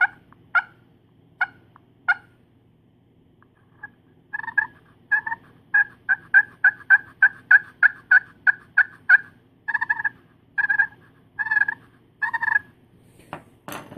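A series of deep, hollow turkey clucks from a friction call played with a wooden striker: a few spaced single clucks, then a quick, steady run of sharp, loud clucks.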